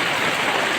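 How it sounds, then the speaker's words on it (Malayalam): Steady, dense rain falls in a brief hiss of drops on surfaces outdoors in Kerala, with no other sounds standing out. "നല്ല മഴയാട്ടോ."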